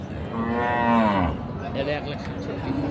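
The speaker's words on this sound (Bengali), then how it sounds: "এটা তো মানে বকনা এটা বকনা" A heifer lows loudly at a busy cattle market, one long drawn-out moo close by, followed by a shorter second call over a background of market crowd noise.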